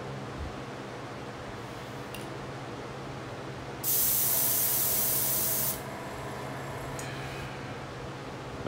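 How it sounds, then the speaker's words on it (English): An airbrush sprays satin clear coat onto a knife sheath in one steady hiss of about two seconds, close and fairly loud over a quiet room background, with a faint earlier short puff. "I'm going to put a clear coat on this."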